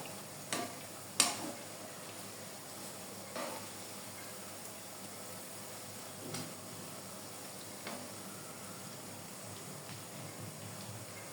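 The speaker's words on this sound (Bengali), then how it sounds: "চারিপাশে একটু চামচ দিয়ে আপনি একটু ঘুরিয়ে দিবেন যেন দুই পিঠই সুন্দরভাবে মুচমুচে করে ভাজা হয়।" Eggplant fritters (beguni) frying in oil and being turned with a spoon: a faint, even sizzle broken by a few sharp spoon clicks against the pan.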